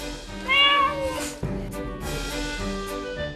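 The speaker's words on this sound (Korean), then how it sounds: "예외 없이 창밖을 보면서 울기 시작하는데요" A pet cat meows while staring out a window of a stone-walled house on Jeju Island, giving a few loud, clear, drawn-out cries with pauses between them.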